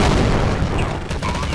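A loud, rumbling explosion in the video game Counter-Strike 1.6 fills the moment with deep, noisy roar that barely fades before cutting off.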